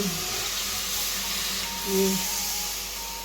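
Water hits browned, roasted flour in a hot pan and gives off a steady, close hiss and sizzle that swells briefly midway, with no talking.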